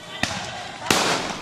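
Firecrackers fired during a street brawl between two groups, two sharp bangs about a second apart, each trailing into a long noisy crackle and rumble.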